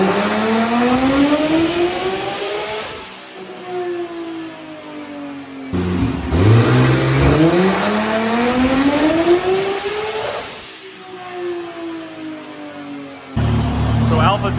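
A nitrous-equipped car makes repeated hard pulls outdoors at a car meet, its engine revving and climbing in pitch through several gears, falling off and then roaring up again, loud and close with voices in the background.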